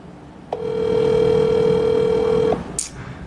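An outgoing phone call placed from Côte d'Ivoire, with one steady ringback tone of about two seconds that stops abruptly, then a short hiss.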